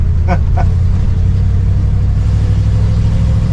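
A 1982 Dodge Ramcharger W150 engine drones loudly and steadily from close by, with a low rumble throughout and a couple of brief higher mechanical squeaks early on.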